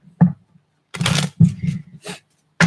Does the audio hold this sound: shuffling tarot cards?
yes